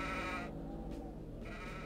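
A sheep in an outdoor area of the video game Hexen 2 gives a single wavering bleat, moderately loud over a low steady background hum with no talk.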